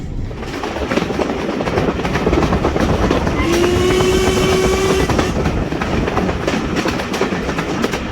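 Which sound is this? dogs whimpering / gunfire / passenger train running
passenger train running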